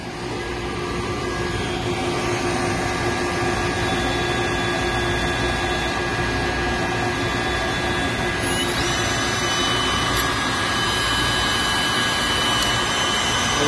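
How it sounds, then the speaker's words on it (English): Rusted bolts on a 20 hp motor and water pump are cleaned with a power tool that gives a steady, loud whirring and grinding hiss throughout, unbroken and close. "They're all rusted out, so we're just gonna clean them up a little bit."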